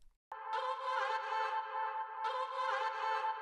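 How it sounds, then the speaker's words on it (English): Vocal loop sample from an electronic music track, a sustained airy chorus-like voice texture with swelling phrases, heard alone and fairly quiet throughout. "I added this vocal loop, which sounds like this on its own."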